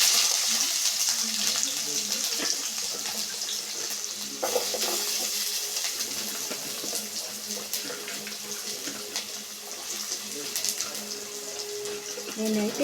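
Sliced onions and mustard seeds sizzle in hot oil for a dhaba-style egg dish, giving a loud, continuous close-up hiss with faint stirring scrapes. A voice speaks over the sizzle.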